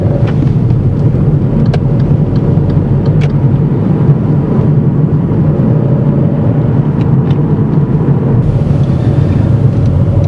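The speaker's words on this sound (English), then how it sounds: "As he enters this roundabout, instead of keeping to the left lane, he drifts over towards the right." A learner driver's car rolls through a roundabout during a driving lesson, its steady engine and road rumble filling the cabin at a constant level, with no one speaking.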